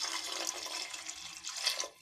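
Water poured from a glass into basmati rice in a cooking pot, a brief soft splashing gush, quiet and close, with no voices.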